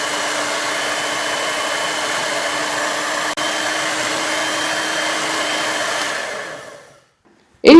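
An electric hand mixer beats fruit cake batter with flour in a steady, close whirring drone, a brief click partway through, before it winds down and stops.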